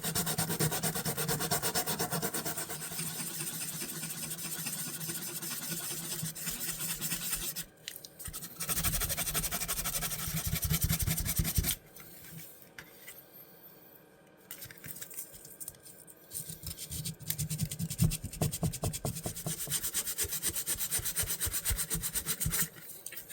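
Close back-and-forth scraping of 1000-grit sandpaper on an antique fisherman knife, in bursts of brisk strokes separated by short pauses and quieter passes.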